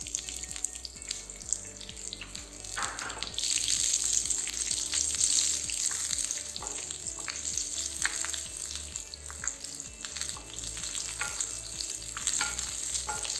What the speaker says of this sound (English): Now in a fresh pan, add some oil. Add sliced onions.